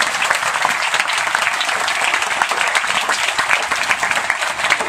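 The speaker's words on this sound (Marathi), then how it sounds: "त्या आई वडिलांसाठी एकदा जोरदार टाळ्या वाजवाव्या" A school audience gives loud, sustained applause at a gathering, a dense, even wash of many hands clapping close by for several seconds without a break.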